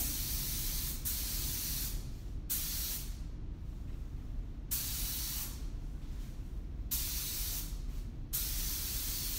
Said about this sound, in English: I'm trying to keep the gun somewhere between 12 and 14 inches away from my surface